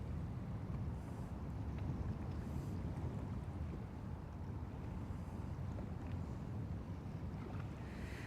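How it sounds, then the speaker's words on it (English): Wind on Lake Guntersville blowing steadily at about 14 mph with gusts near 21 mph, a constant low rumbling rush against the microphone, with faint water sounds and no talking. "right now we have 14 mile an hour winds, 21 mile an hour gusts."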